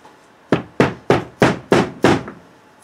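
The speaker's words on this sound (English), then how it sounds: "I'm going to hit the little carburetor with a little brass," Small brass hammer tapping the carburetor of an HPI Nitro Star .18 RC nitro engine, six sharp, evenly spaced knocks, close and distinct with no talk.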